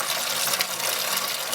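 Homebrewed chocolate cherry stout poured through a strainer to catch hop particles, a continuous close splashing, gurgling pour of liquid with no break.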